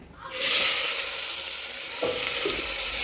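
Hot oil with turmeric and salt in it bursts into a loud, close sizzle that holds as a steady bright hiss, with a brief stirring scrape near the end.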